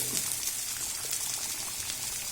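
Onion and curry leaves frying in hot coconut oil for a Thrissur fish curry, a steady close sizzle and crackle without pause.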